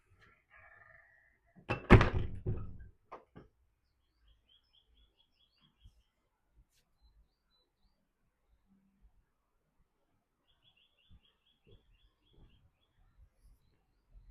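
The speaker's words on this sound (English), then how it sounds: "That's a big, heavy oak door." A big, heavy oak door swings shut with one loud, deep thud and a brief rattle, followed by a couple of smaller knocks, then near silence with faint distant birdsong and scattered light footsteps.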